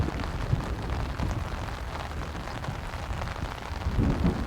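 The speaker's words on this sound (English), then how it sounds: "listen to the rain, listen to the thunder" Steady rain pours down continuously, with a low rumble of thunder rolling underneath and swelling slightly near the end.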